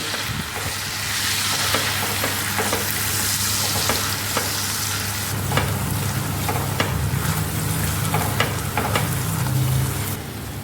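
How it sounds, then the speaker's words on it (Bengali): Onion, green chilli, ginger and garlic paste frying for katla fish kalia, a continuous close sizzle with repeated spatula scrapes and stirring taps throughout, no talk. "পেঁয়াজ কাঁচা লঙ্কা আদা আর রসুনকে পেস্ট করে নিয়েছিলাম সেটা আমি দিয়ে দেবো দিয়ে খুব ভালোভাবে কষে নেবো"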